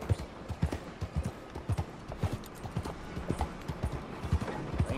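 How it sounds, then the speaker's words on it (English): Hooves clip-clop steadily on hard ground in Red Dead Redemption 2, an even walking rhythm, close and clear throughout with a faint snort or two. "That's a nice horse"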